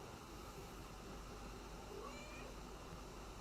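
A pet cat meows softly for attention indoors, a faint brief call or two over a low steady room hum, with no speech.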